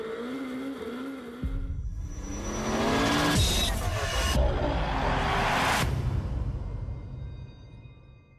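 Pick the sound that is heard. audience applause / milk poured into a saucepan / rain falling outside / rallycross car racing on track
rallycross car racing on track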